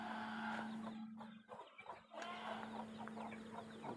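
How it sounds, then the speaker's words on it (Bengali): Native desi chickens cluck on an integrated farm, their calls fairly faint and continuous over a steady electrical hum, with a brief lull in the middle. "এই যে স্যার আমাদের দেশি মুরগি"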